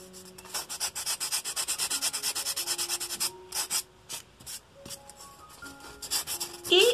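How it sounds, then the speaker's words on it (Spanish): Close sandpaper strokes scrub over a whole decorated egg in a fast regular back-and-forth rhythm, then slow into scattered rasps, with soft background music underneath. "Y vamos a lijar todo nuestro huevo."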